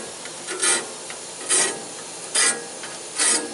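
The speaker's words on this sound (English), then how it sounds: "So you got to hold the grinder in the middle so you get a nice clean shiny face on there" A hand grinder rasps against a Woodmizer LT15 sawmill blade during sharpening, four evenly spaced short grinding passes, close and fairly loud, over a low steady background hum.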